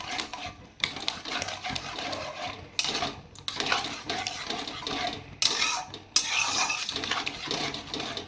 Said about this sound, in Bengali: দুধটা দিয়ে এভাবে নেড়ে নিচ্ছি